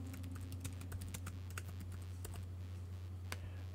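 Quiet, rapid typing on a computer keyboard as a folder name is entered on a Mac, steady close clicks of keys in an uneven rhythm, heard alone against a low hum.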